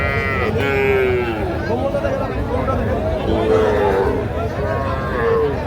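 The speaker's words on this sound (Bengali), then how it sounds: "শাহিওয়াল বকনা" Sahiwal heifer calf at a busy cattle market, with low drawn-out moos rising through a constant chatter of voices and crowd noise over most of the stretch.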